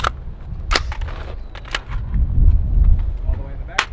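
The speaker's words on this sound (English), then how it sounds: "Let's shoot some more rifle." Carbine rifle shots fired at a long-distance target on an outdoor range, a few sharp cracks spaced irregularly, mixed with low rumble and brief talk between shots.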